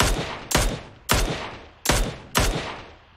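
Five gunshots ring out in PUBG Mobile, loud and close, each a sharp crack followed by a decaying echo, spaced roughly half a second to three quarters of a second apart.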